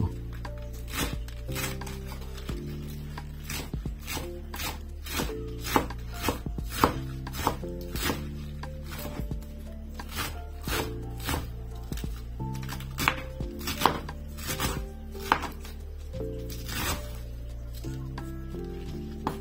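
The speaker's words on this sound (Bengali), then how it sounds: "একটু মিডিয়াম সাইজ করে আমরা বাঁধাকপিটাকে কুচি করে নিব" Knife chopping cabbage into medium shreds on a board, a steady run of sharp, close taps with a few louder strikes, continuing alone without talk.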